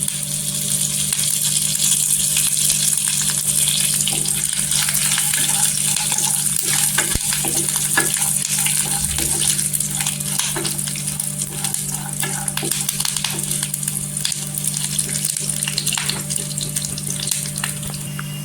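Curry leaves sizzling in hot oil for a fasting-day varai upma: a continuous loud crackling hiss with scattered sharp pops and occasional clinks from stirring, close by and without talk.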